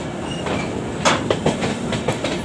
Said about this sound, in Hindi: ये आ गई हमारी शताब्दी एक्सप्रेस